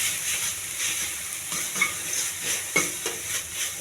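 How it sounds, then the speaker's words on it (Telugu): Onions sizzling in a pan with mustard seeds and ginger-garlic paste, a close, steady fry broken by several scraping stirs of a spatula. "ఉల్లిపాయ బాగా వేగిందండి"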